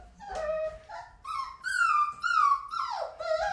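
A five-week-old white golden retriever puppy whimpers and whines on its own, a run of high, wavering cries with rising and falling pitch that grow louder in the middle and trail off, close up.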